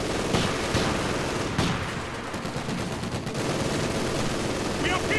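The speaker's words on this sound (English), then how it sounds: "Under heavy machine gun fire!" Heavy machine gun fire in the real-time strategy game Company of Heroes 2, a dense, continuous battle din of rapid gunfire and explosions, loud and sustained throughout.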